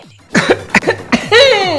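A burst of several sharp, close coughs in quick succession, ending in a strained, raspy rasp.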